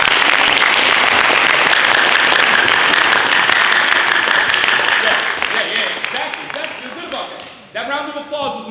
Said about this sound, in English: I want y'all to give yourselves a round of applause